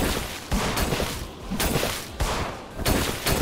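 Gunfire in the horror game In Sound Mind, several loud, close bursts of shots in quick irregular succession over a dense, noisy backdrop.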